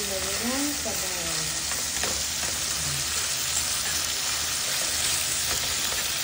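Chicken sizzling and frying in a pan for a spicy Filipino chicken soup, a steady loud crackle with occasional stirring scrapes throughout.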